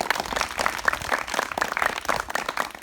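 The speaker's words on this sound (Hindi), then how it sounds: "तो एक बार ताली बजा दो" A group of schoolchildren at a village school clapping together, a dense steady patter of many hands lasting a few seconds, moderately loud and without talk.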